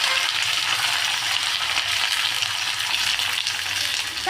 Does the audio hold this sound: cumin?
yes